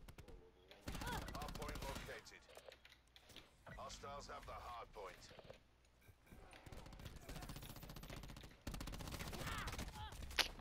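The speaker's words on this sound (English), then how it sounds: "I'm getting shot in the back." Rapid gunfire from Call of Duty: Black Ops 4 multiplayer during a 4v4 Hardpoint match crackles in dense bursts, mixed with weapon handling clicks and a player talking over it.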